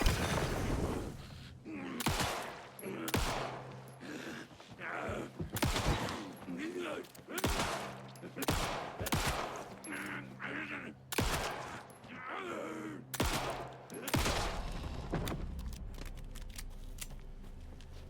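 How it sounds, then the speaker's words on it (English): Gunfire in the woods in Alan Wake II, a series of sharp, loud shots fired in irregular bursts over a murky game ambience, with groans and voices between them. "Wouldn't the townspeople be concerned if they heard gunshots in the woods?"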